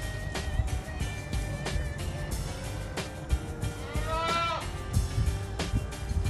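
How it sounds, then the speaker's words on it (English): Goats, both little and big, bleat on a ranch, with several wavering calls rising over a steady outdoor rumble of farm background noise. "Got some little goats here. Big goats."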